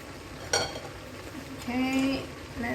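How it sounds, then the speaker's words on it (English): A vegetable curry with mushrooms is stirred in a tight cooking pot, with soft scraping and clinks against the pot over a faint sizzle, fairly quiet and close. "let's mix everything very well. A bit tight this cooking pot, eh?"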